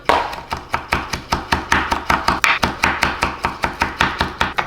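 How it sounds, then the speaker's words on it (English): Fresh herb leaves chopped with a knife on a board, a fast even run of about twenty crisp, close knocks with no voices. "We're gonna give those a quick chop."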